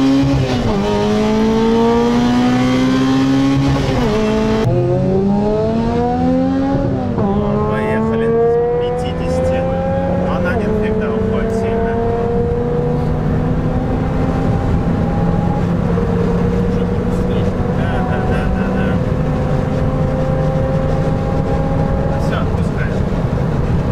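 A Volkswagen Tiguan 2.0T engine accelerating hard in a race against a Chery Tiggo 8 Pro, loud close revving that climbs in pitch, drops at gear changes and climbs again for a long continuous pull.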